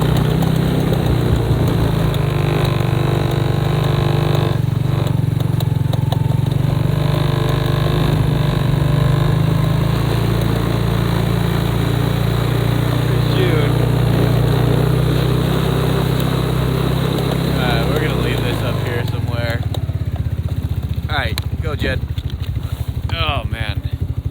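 Four-wheeler ATV engine running on a snowy property, a loud close steady idle rumble that holds for most of the stretch then drops away near the end, with people talking over it.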